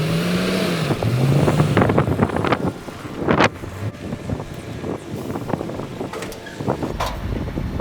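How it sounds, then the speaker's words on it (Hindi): A car engine revs and rumbles as the vehicle is driven up onto a truck car-carrier in Saudi Arabia, with uneven bursts, clunks and gusts of wind noise across the outdoor scene. "गाड़ियों को यही चढ़ा रहा है"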